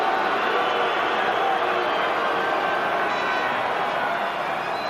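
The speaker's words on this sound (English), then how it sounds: "the referee's getting a roasting from the crowd, who are obviously favouring the underdogs" A big stadium crowd at a 1995 Rugby World Cup match between Scotland and Tonga gives a steady, dense roar of jeering aimed at the referee, loud and continuous with no breaks throughout.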